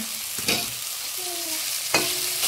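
Crumbled kurdai goes into a pan of frying tomato and chili, with a soft steady sizzle and two sharp scraping stirs of a spoon, close and clear, and no speech.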